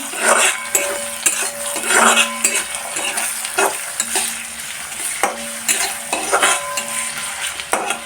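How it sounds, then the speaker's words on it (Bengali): Onion frying in oil in a kadai gives a close, steady sizzle, broken by repeated scraping and clanking of a spatula against the metal as it is stirred, with no voices. "তেল দিয়ে দিলাম কড়াইয়ে, পেঁয়াজ দিয়ে দিয়েছি, তেল দিয়ে দিলাম। পেঁয়াজটা একটু লাল করে নিই।"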